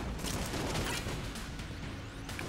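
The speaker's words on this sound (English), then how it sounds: "this gun, because it seems to shoot a shit ton of projectiles" Rapid bursts of gunfire from a gun spraying many projectiles in the Enter the Gungeon game, dense crackling shots packed into a couple of seconds with no talk.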